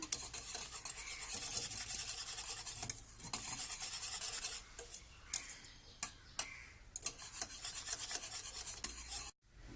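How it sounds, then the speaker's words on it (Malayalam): Cocoa and cornflour paste being stirred into milk in a pan for a layered biscuit pudding, a steady scraping, ticking rhythm of spoon against pot, close and continuous, with a few brief knocks and no talking. "ഇതിന് നമുക്ക് നന്നായി മിക്സ് ചെയ്തെടുക്കാം."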